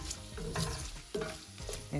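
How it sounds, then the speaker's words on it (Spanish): Shrimp frying with garlic in a pan, stirred in short scraping strokes over a crackling sizzle, close and moderately loud, with brief pauses between the stirs. "Vamos a estar revolviendo un poquito."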